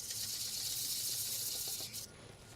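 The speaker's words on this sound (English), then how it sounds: "I'm going to sand it by hand anyhow." Hand sanding of a cypress wood hollow form, a steady, close breathy rasp of abrasive against the wood that runs for about two seconds, then cuts off into quiet.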